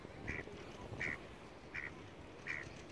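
A duck on the water quacks four times at a steady, evenly spaced rhythm while being fed bread in town, the calls faint and somewhat distant over constant outdoor background noise.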